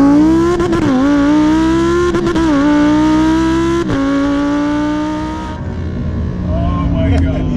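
A car engine revs hard and steady up close, its pitch dipping and climbing as it corners, with brief sharp breaks in the tone.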